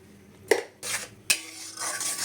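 Palm pulp gets mixed with salt in a bowl, a few sharp clinks of a spoon against the bowl interspersed with soft wet stirring swishes, close and fairly quiet, with no voices.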